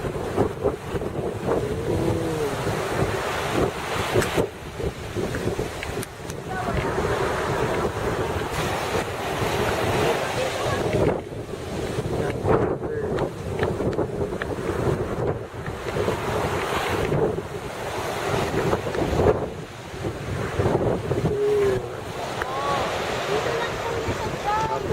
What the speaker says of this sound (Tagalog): Yung mga malalaki mga wave.